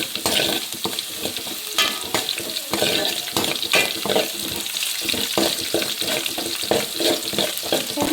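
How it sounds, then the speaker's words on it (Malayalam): Lemon pickle with mustard seeds is stirred in a hot pan, a close run of irregular scraping and clattering strokes over a constant sizzle, with no speech. "നല്ലപോലെ ഇളക്കി കൊടുക്കട്ടെ"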